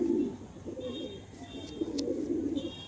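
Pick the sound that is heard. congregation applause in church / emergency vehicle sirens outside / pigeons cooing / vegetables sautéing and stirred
pigeons cooing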